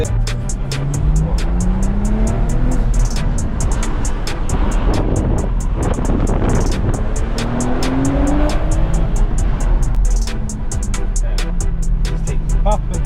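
A BMW 340i engine roars steadily as it drives through streets, with gear changes and rising revs, loud and close, and a voice talking faintly underneath.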